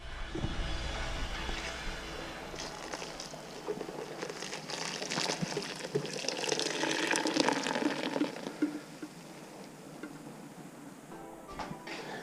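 Fresh goat milk pours through a filter with a continuous soft splashing trickle, fairly faint and steady, swelling slightly midway before thinning out, with no talk over it.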